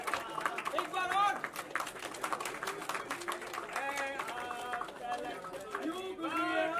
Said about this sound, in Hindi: 90 सेकंड में चले तालियां।